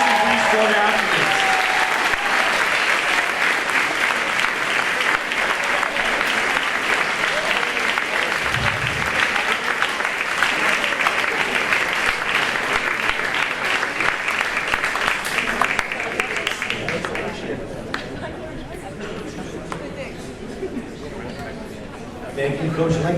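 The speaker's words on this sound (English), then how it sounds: "Let's have a big round of applause for our amazing three-sport athletes." Sustained applause fills a high school varsity sports awards ceremony, a dense, steady wash of clapping from a large audience lasting about fifteen seconds before thinning into scattered claps and faint crowd murmur.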